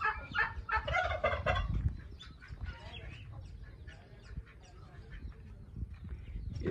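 Noisy poultry calls with rapid, rattling gobbles up close in the first seconds, then a busy mix of bird noise and faint voices continues.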